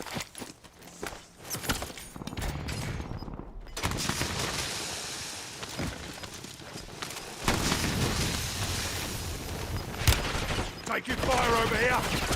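Rapid gunfire bursts and distant explosions in Call of Duty: Warzone battle royale, dense volleys rattling on and off over footsteps and background noise.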